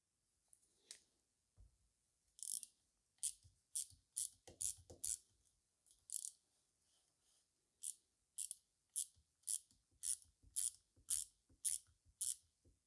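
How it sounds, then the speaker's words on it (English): A ratchet loosening a bolt on a BMW N42/N46 Valvetronic engine, giving repeated bursts of sharp metallic clicks in quick rhythmic sets with short pauses between them, close and fairly quiet, with no talking. "just loosen the bolt like 5 millimeters, should be enough"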